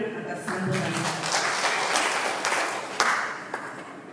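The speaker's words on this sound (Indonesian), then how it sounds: "sekali lagi kita berikan tepuk tangan atas sambutan" Attendees at a district prosecutor's office outreach event in Teluk Wondama applaud a welcoming speech with sustained crowd clapping throughout and a few sharper individual claps standing out near the end.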